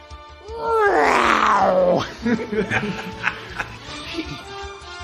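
A person imitates a jaguar roar with a loud, drawn-out growling voice lasting about a second and a half, followed by quieter chuckling and breathy sounds.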